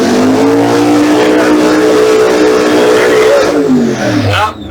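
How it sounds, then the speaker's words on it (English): Alcohol-burning funny car at an NHRA drag strip warming up on methanol, a loud sustained engine roar with steady harmonic drone for several seconds, easing slightly near the end. "That's another funny car, alcohol funny car warming up."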